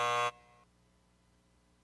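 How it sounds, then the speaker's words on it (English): A loud, harsh game-show buzzer blares for about a quarter second, then cuts off, leaving a faint hum behind. "People are going to get upset about this buzzer."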